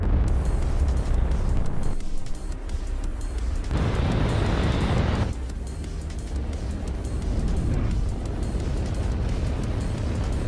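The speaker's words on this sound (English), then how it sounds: "Go for launch." A simulated rocket launch in Kerbal Space Program, recreating the Crew-7 mission, roars as a loud, sustained rumble that swells into a brighter, harsher blast for a few seconds before settling back to a steady thunderous drone.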